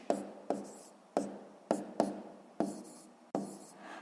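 Pen or pencil strokes tap and scratch across paper in a steady series of short, distinct marks, close and clear, as numbers are written out for column multiplication.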